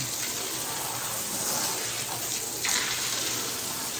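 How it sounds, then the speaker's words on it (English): Water gushes steadily from a hose or tap while rinsing out a hot tub, a continuous close splashing rush that swells briefly near the end, with no talking. "So, I want to rinse out all this stuff."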